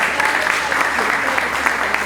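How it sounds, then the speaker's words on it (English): An audience at an entrepreneurship meetup applauds its presenters, a brief, steady burst of crowd clapping filling the whole stretch. "Give it a round of applause for our presenters today."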